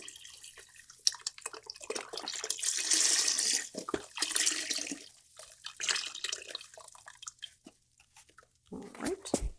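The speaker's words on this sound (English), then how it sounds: "we're also going to add a little bit of water, 2 cups of that" Water pours into a pot of vegetable broth while a soup is being made, a steady splashing stream running for several seconds before tapering into a few drips.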